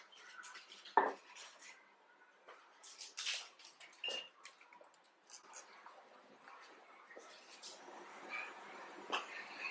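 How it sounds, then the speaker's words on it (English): Melting solid chocolate is stirred in a pan over heat, giving light, irregular scraping and clinks of a utensil against metal. A sharp clank comes near the start, and the sounds are fairly quiet and close. "We are stirring it to help it melt."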